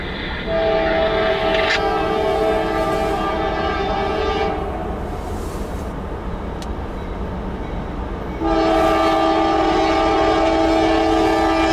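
A freight train's horn sounds a long, loud chord close by, drops out for a while, then blasts again while the train keeps rumbling past without a break.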